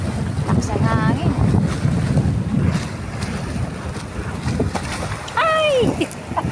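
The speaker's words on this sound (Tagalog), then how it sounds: "Lakas ang hangin." Strong wind by the sea blasting the microphone with low rumbling gusts over surf noise, steady and close, while voices speak intermittently.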